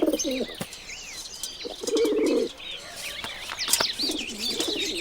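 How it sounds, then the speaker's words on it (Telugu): Pigeons coo softly in repeated low, rolling calls, with sparrow-like chirps and a brief flutter of wings, fairly close and with no one talking. "ఈ బర్డ్స్ కి ఫీడ్ కావాలి"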